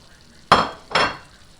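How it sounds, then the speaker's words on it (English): Cherry tomatoes, thawed peas and crumbled cooked bacon drop into a pan for pasta carbonara, making two quick soft rustling thuds followed by a brief sizzle, close and moderately loud. "now we're going to add in our cherry tomatoes, our peas that are thawed out, and our bacon"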